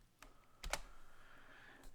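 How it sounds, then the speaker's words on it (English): Keys clicking on a computer keyboard as a password is entered for a Linux remote login: a few sparse, faint keystrokes spread over a quiet background. "And I have to put in her password."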